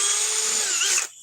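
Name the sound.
cordless power drill running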